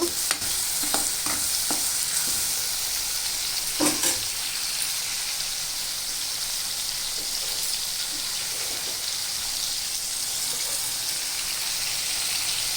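Ridge gourd and prawns frying in a pan, with a steady close sizzle and scattered scraping taps of stirring near the start and around four seconds, then continuous frying hiss.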